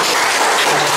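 Guests at the opening of a photo exhibition in a gallery applaud, a dense, loud and steady wash of clapping that continues without a break.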